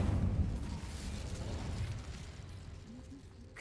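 A fiery Incendio spell from Hogwarts Legacy bursts with a loud low whoosh and rumble at the start, then fades into a softer crackling tail.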